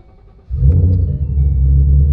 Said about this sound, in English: The whole car starts rumbling.